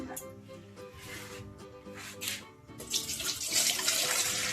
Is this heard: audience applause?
no